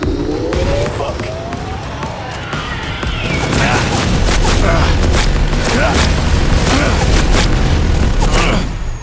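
A loud, continuous barrage of gunfire and booming explosions rages in a Cyberpunk 2077 firefight, with rapid shots and crashing impacts layered densely for several seconds.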